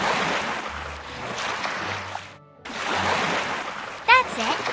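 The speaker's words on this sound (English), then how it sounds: "Now let's rinse off the bubbles with water from the watering can." In an animated children's scene, water pours from a watering can to rinse off soap bubbles as a steady, splashy stream. It pauses briefly, resumes, and ends with a quick chirpy sound.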